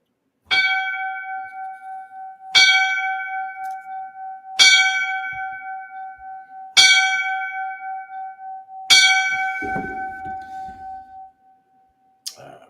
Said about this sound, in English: we're going to bring the 5 bells out for him